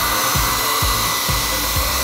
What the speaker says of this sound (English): Put the blow dryer on.